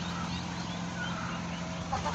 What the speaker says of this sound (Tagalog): Ito, ang lalaki ng mga manok